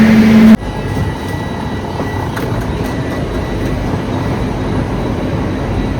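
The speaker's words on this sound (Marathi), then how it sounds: "आता आपली ट्रेन मुंबई सेंट्रलवरून डिपार्चर झालेली आहे." Mumbai Central–Bhiwani Express pulling out of Mumbai Central, heard from inside a coach as a steady low rumble with faint rattles after an abrupt shift in the first half second.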